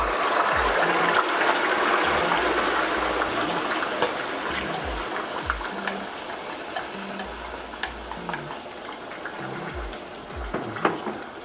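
Chopped onions frying in a generous amount of hot oil for Ghanaian shito black chili sauce, a steady bright sizzle with faint crackles and occasional stirring taps, close and without talk.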